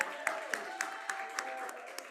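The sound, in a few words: applause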